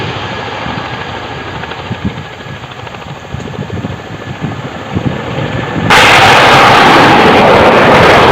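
A military helicopter rumbles close by with a pulsing, churning drone, then swells abruptly into a louder, harsher wash of engine and rotor noise near the end.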